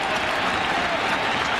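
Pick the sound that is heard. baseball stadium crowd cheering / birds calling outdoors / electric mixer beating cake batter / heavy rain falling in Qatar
baseball stadium crowd cheering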